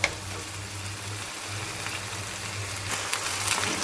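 Chicken keema frying in oil over lowered heat makes a steady, close sizzle with a faint low hum underneath and a few light stirring taps, and no one speaks.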